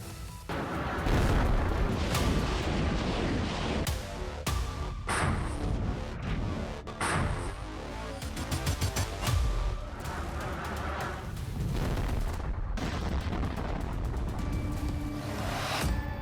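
Wartime artillery bombardment in the Russia-Ukraine war: loud, dense booms and blasts follow one another across the stretch, with sharp impacts over a constant rumbling wash of noise.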